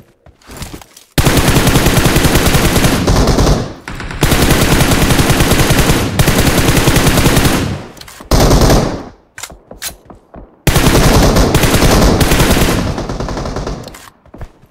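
Heavy automatic gunfire in a mobile battle-royale shooter game, loud long bursts of rapid shots that break off into short gaps and then start again.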